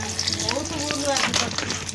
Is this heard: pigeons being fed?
no